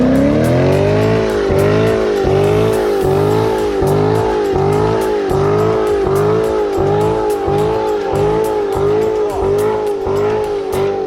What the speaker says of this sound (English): I'm gonna do a quick burnout here